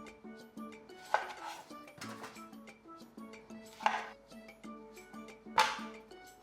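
Tomato quarters are pushed and spread around a metal pan, making soft scraping and clinking with three sharper knocks spaced a couple of seconds apart, quiet and close.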